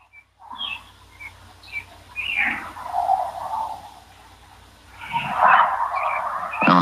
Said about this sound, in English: Them birds are far away from here,